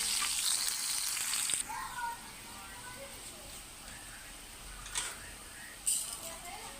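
Chopped onion hits hot oil for a tempering, starting with a loud, bright sizzle that drops to a softer, steady hiss with a few crackling pops, while a voice talks nearby.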